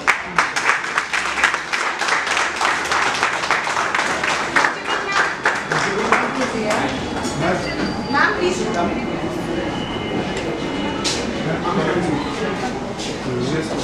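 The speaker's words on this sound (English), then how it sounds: "please welcome Professor Lakshmi Ipani with a round of" An audience at an entrepreneurship summit applauds to welcome a guest professor. Sharp, rapid clapping is loudest at the start, then thins into a softer, busier room rumble with a few scattered claps.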